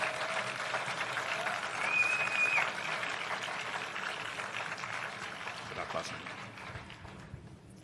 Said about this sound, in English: Please, a big hand of applause for the guest of today,